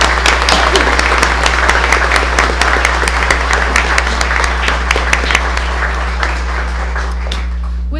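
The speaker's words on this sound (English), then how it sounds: "Please join me in applauding these accomplishments of these students." Audience applauding at a school board meeting, steady sustained clapping from a roomful of people that fills the room, fading slightly toward the end over a constant low hum.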